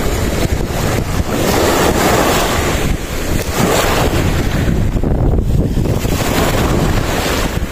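Strong seashore wind blusters across the microphone while fishing from the shore, a loud, continuous roar over crashing surf with no voices.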